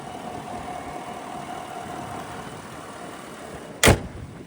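A 2019 Chevrolet Suburban LT's 5.3 liter naturally aspirated V8 idles quietly and smoothly with a low steady hum, then a single sharp, loud thump like a door closing near the end.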